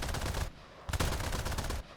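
Bursts of rapid aircraft machine-gun fire from a propeller fighter in a flight combat game, loud and continuous, with a short pause between two long volleys.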